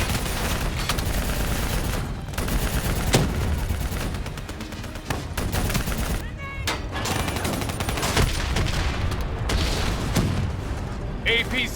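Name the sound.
gunfire at a VTOL in the video game Call of Duty Black Ops 3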